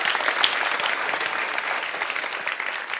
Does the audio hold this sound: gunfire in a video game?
no